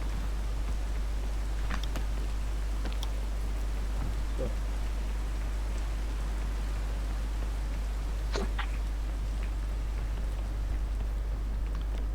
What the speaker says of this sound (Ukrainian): Там просто типу, дощ іде.